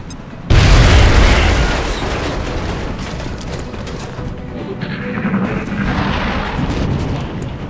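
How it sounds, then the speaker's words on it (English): A grenade explodes in the XCOM: Enemy Within video game, a sudden loud deep boom that rumbles and roars on, slowly fading into a sustained noisy wash with no talk. "Grenade out."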